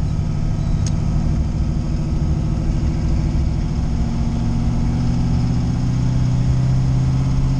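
Steady low engine drone from an LS 5.3 V8 swapped into a Fox-body Mustang driving in first gear without shifting, a continuous mid-loud rumble with a slight rise in pitch toward the end.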